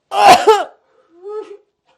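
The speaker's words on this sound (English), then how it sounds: "Smoking from the bong always made me cough more." A person coughs hard after smoking from a bong, one loud burst of several harsh hacks followed by a softer, raspy vocal tail.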